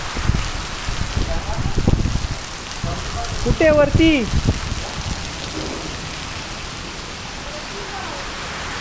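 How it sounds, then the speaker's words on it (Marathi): Heavy monsoon rain pours down during a thunderstorm in Maharashtra, a loud, dense, unbroken hiss of drops filling the whole stretch, with brief voices speaking and calling out over the downpour partway through. "अगं लयच पाऊस आहे."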